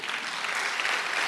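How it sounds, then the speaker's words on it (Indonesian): Sustained applause from a church congregation during a sermon, a dense, steady wash of clapping that holds evenly loud for the whole stretch. "Tepuk tangannya bisa lebih dahsyat dari ini, saudara"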